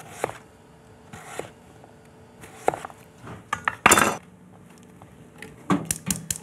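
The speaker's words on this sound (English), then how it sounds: "peel the turnip, and I'm cutting it into wedges, sort of like apples for an apple pie" A knife slices a peeled turnip into wedges on a cutting board, with a scattering of sharp, irregular chops and clinks close by and short quiet gaps between them. No one speaks.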